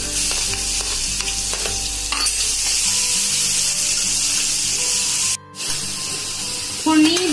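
Garlic, green chili and ginger paste sizzles and crackles steadily in hot tempering oil on a low flame, a continuous frying hiss with light stirring clicks, close up; a brief gap breaks it near the end.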